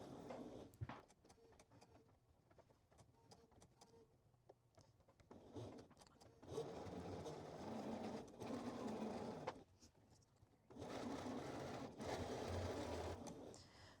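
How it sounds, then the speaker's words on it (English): A sewing machine stitches a zipper seam on a dress in several short bursts of motor whirring, separated by quiet pauses, heard close up with no talking. "we're going to sew all the way down until we hit our stop"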